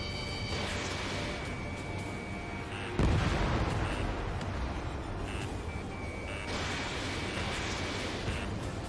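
Missile launches and explosions in the combat flight game Ace Combat 7 arrive as a sharp blast at about three seconds, with steady jet engine roar, electronic warning tones and further rumbling impacts throughout.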